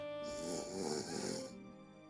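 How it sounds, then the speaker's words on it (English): A single long, raspy snore from a sleeping suspect in the detective game Shadows of Doubt drones steadily at low volume, breathy and rumbling, with no talking over it. "The only thing louder than my heartbeat is the suspect snoring."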